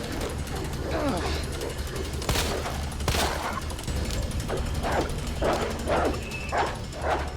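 Zombie dogs in Resident Evil 2 Remake let out a string of short, harsh barks and growls that grow more frequent toward the end, over a low, steady ambient hum and game sounds.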